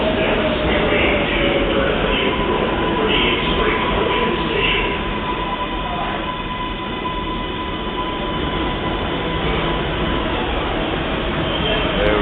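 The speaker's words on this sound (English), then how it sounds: "it didn't get to tell you that the train was entering the station" A subway train entering the station, with a loud, steady rumble of wheels on rails and a sustained metallic whine, close and continuous.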